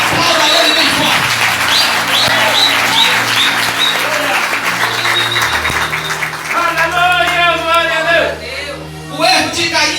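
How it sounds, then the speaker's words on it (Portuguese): Church congregation applauding loudly and steadily during a worship service, with cheers and voices mixed in and a preacher's speech resuming toward the end. "Então aplauda ele bem forte."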